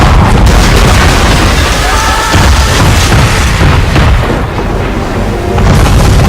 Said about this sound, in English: Man of war's firing!